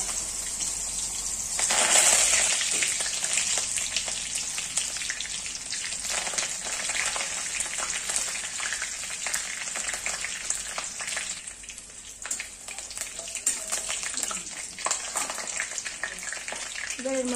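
Slit green chillies and curry leaves hit hot oil in a pan for a banana-flower curry, giving a loud burst of sputtering at first and then a steady crackling sizzle, with occasional stirring scrapes.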